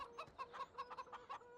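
Chickens in the Farming Simulator 17 game, a quick run of about eight soft, rhythmic clucks heard fairly faintly with no talk.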